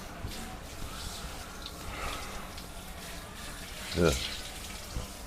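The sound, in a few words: water rinsing a dog during a bath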